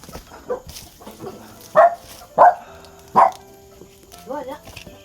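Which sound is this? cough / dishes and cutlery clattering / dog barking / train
dog barking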